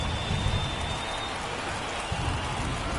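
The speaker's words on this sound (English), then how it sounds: "This rain is not letting up." Heavy rain pours steadily during a baseball game, a dense, constant hiss of drops hitting surfaces with occasional low rumbles underneath, and no voices.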